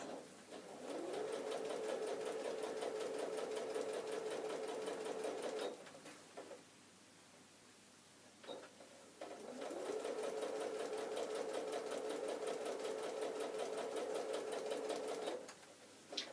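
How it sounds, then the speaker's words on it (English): A sewing machine runs a long straight 1/4-inch seam through patchwork fabric with a steady, close mechanical whir. It stops briefly, then sews a second long run. "we're just going to sew a 1/4-inch seam all the way down"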